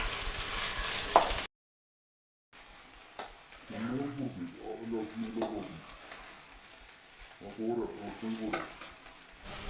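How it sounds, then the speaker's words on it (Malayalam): A beef keema mixture is stirred and fried in a pan with a soft sizzle and scraping strokes, interrupted by a brief silence, while a voice talks over it. "നല്ലോണം വാടി വരുന്ന വരെ നമ്മൾ നന്നായി ഇളക്കി കൊടുക്കണം"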